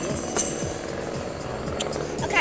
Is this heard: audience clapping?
no